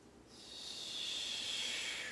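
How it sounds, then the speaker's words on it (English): A long, steady audible exhale during a yoga breathing exercise, a soft breathy hiss that swells after a brief start and holds evenly, close and quiet, with no talking. "And really this time we're going to extend the exhale."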